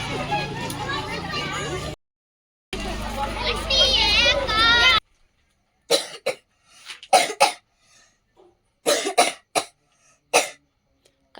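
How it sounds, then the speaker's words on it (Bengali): A child's cough comes in short separate bursts, several loud dry hacks spaced across the span, after noisy stretches of children's voices and background bustle. "কাশিটা কিছুতেই কমছে না।"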